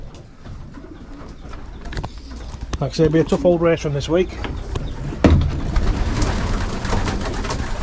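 Racing pigeons coo softly nearby in a loft with low throaty calls. Someone talks over them, and there are occasional knocks and rustling.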